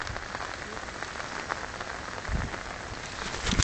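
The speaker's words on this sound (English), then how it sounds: "this is Killarney in the rain" Rain falling in Killarney, Ireland, a dense continuous hiss of drops on surfaces outdoors, steady and fairly loud with occasional low thumps, no voices.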